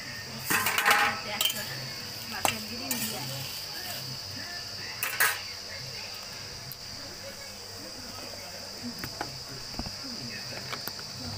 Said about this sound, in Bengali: আমার ঢাকনাটা খুলে দেবো।